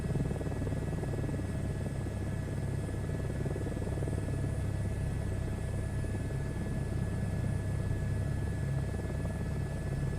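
Helicopter in a VR flight simulator game, a steady, continuous rotor drone and engine hum filling the scene at an even level throughout, with no voices.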